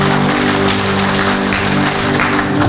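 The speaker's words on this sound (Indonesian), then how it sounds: "Sekali lagi tepuk tangan dulu." Steady applause from a church congregation during a Sunday worship service, a dense continuous wash of clapping throughout with a faint sustained tone underneath.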